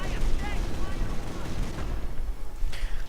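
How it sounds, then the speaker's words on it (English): Gunfire and artillery thud in a video game battle, a busy, moderately loud stream of shots and rumbling blasts that goes on throughout, with commentary voices faint under the din. "Artillery being called in on the flag failing though."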